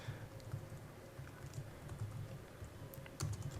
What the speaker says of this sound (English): I'm sorry I'm typing this stuff out